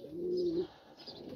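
A large, healthy male pigeon newly bought for breeding coos close by, one sustained low coo followed by softer murmuring notes, with no talk.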